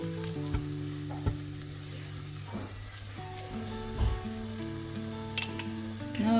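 Spices frying in a pot for beef and potato curry give a continuous close sizzle with a low hum, and a few light clinks and stirs come through near the end.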